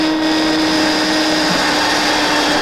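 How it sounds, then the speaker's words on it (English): Power drill boring a hole through a molded aircraft wing, a loud steady whine with a constant pitch that runs throughout. "so I'm going to drill that one right now."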